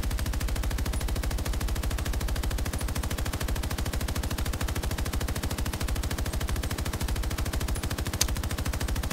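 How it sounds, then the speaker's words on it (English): Nonstop rapid automatic gunfire in Battlefield 2042, a dense, steady rattle of shots that runs loud and unbroken from start to finish. "I don't know if my shooting's doing anything from here"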